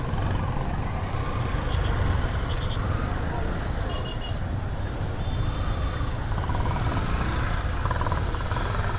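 Dense traffic jams a bridge in Dhaka, cars, trucks and motorbikes idling and rumbling in a steady roar, with occasional short beeps over the noise and voices talking nearby.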